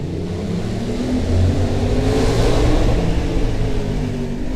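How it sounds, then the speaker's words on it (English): A Honda Transalp 750 motorcycle engine runs steadily at close range, a loud droning rumble that swells slightly midway as the bike picks up speed on an abandoned road. "Bike does sound good."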